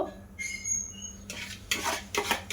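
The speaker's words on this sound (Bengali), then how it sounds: "এবার যে আমের পাল্পটা ছিল ওই আমের পাল্পটা আমি ফ্রাইং প্যানের মধ্যে দিয়ে দেব" Mango pulp hitting a hot frying pan while mango halwa is made, heard as a few short, bright splashing and sizzling bursts close by over a quiet background with no talking.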